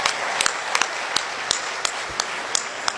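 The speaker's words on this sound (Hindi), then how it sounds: "एक बार तालियां और विष्णु जी के लिए बजा दे।" Scattered audience applause at a Haryanvi comedy show, sharp individual claps standing out at irregular intervals over a soft, continuous patter of hands.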